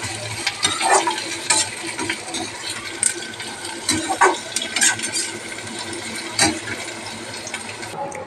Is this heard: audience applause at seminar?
no